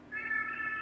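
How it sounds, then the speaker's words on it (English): A house cat gives a single drawn-out meow, clear and fairly close, alone without talk. "Is that your cat? That's my cat."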